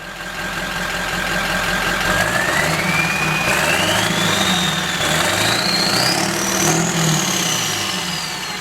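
A 1946 Ford engine idles steadily up close with a rough, pulsing rumble, while a thin whine slowly climbs in pitch over it.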